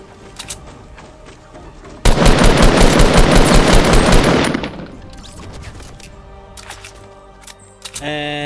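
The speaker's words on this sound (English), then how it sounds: "someone was shooting at us from behind." A sustained burst of rapid automatic gunfire in the Fortnite Battle Royale video game rattles loudly for about two seconds, then fades into quieter game sounds and a few trailing shots.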